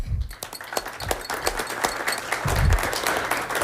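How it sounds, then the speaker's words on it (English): A city council meeting audience claps for a relay team in moderately loud applause of scattered, uneven claps, with a few heavier thumps. "give them all a round of applause"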